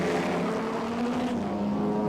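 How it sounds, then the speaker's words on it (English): Race car engines at Lime Rock, Connecticut, give a steady, fairly loud droning roar with a slight downward pitch shift, as if cars are passing at a distance, heard alone. "This is Lime Rock. I can tell by the sound of the engines."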